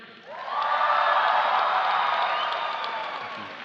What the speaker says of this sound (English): give them the loudest cheer possible for supporting you through all these years